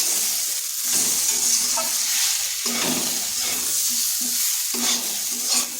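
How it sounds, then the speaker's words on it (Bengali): Masala with tomato and Kashmiri chilli powder sautés slowly in a pan over a low flame, a steady soft sizzle broken by periodic scraping stirs of a spatula, close by. "এরপর মশলার সাথে আঁচটা স্লো করে বেশ কিছুক্ষণ এইভাবে কষিয়ে নিতে হবে"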